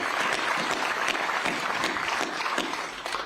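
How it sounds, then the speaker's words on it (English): At Aaron Rodgers's first New York Jets press conference, the room gives a round of applause, a dense, steady wash of clapping from a crowd that holds for a few seconds. "I just like to have a round of applause right there."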